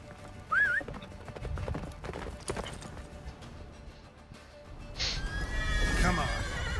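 Hooves of Roach, a horse in The Witcher 3, pound in a galloping rhythm over wind and game ambience, with a brief whinny and a voice speaking over the action.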